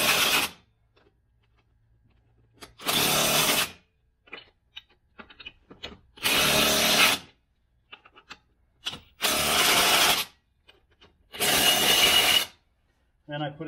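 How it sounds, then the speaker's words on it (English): An impact wrench set to its lowest torque fires off several loud, close bursts, each lasting about a second, separated by quiet gaps filled with small clicks and handling noise. "what I did is I put that on the lowest torque rating for the impact wrench."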